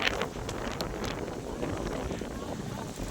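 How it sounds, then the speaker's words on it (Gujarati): Strong wind at a village in Devbhumi Dwarka buffets the microphone with a constant, heavy roar and rumble, with faint rustling mixed in. "ફૂલ પવન છે અત્યારે"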